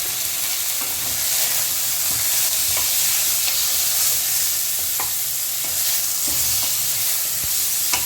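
Salt and turmeric being stirred in a pan of raw mango chutney: a steady close sizzle with scattered soft scrapes and clicks from the stirring, no voices.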